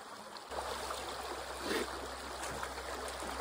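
Water, hand-scooped through a sluice box to process material, rushes and trickles steadily at close range, a continuous gurgling flow with a slight swell in the middle.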